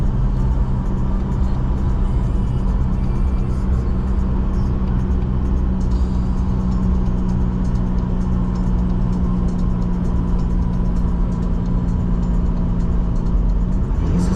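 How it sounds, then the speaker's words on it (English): A 4x4 vehicle climbs a snowy mountain road, its engine droning loud and steady from inside the cabin, with a gear change near the end as the pitch shifts. "there goes a change of gear"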